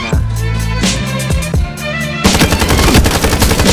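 Rapid automatic weapon fire in Call of Duty Modern Warfare, loud close bursts of gunshots that grow denser and more continuous toward the end, no talk.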